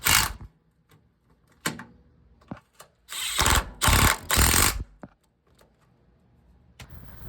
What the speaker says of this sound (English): And then you'll finish by reinstalling these two 12mm bolts that hold the support bracket onto the frame.